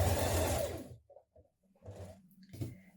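A sewing machine runs a short burst of understitching along a blouse seam onto its facing, then stops, followed by light rustling of fabric and a few soft mechanical clicks.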